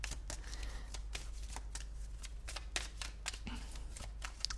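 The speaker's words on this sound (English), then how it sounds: "I'm just going to pull some more cards" Tarot cards being shuffled and pulled: a steady flurry of quick, crisp card flicks and slaps at close range, fairly quiet, with no voice over them.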